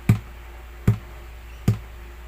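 Three evenly spaced thumps from a hand striking an acoustic guitar's body to mimic a kick drum, deep, short and close against quiet background, no talk.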